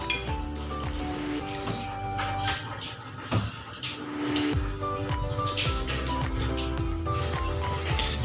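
Dishes and cutlery clink while pandan-leaf-wrapped fried chicken is plated, with light scattered clinks and taps throughout, close and moderately loud over a steady background.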